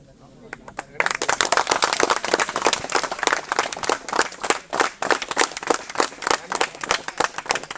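An audience clapping at a live agricultural event, dense irregular claps in a fast patter that begin sharply after a quiet moment and carry on loud and close, with faint crowd noise underneath.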